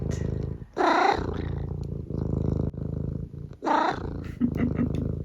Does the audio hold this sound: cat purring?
yes